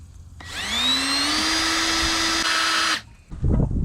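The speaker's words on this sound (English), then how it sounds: "let's just drill a small hole to get us started" A power drill whines steadily for a few seconds, rising slightly in pitch as it bites in while drilling a small pilot hole, then stops, followed by a brief clatter.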